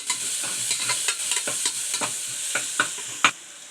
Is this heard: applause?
no